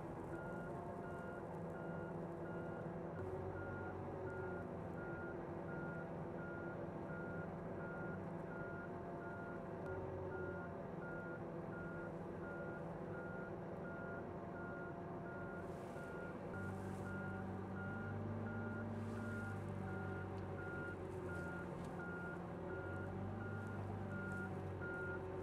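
A tractor backs up with an Early Riser 2160 planter during its fold and unfold sequence, its reversing alarm beeping steadily and regularly over a continuous engine drone for the whole stretch.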